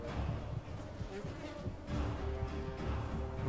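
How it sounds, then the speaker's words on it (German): Swarm of attacking bees or flies in the Enderal video game, a steady droning buzz hovering close over the game's ambient sounds for a few seconds, with no voice. "Werde ich jetzt von Bienen angegriffen?"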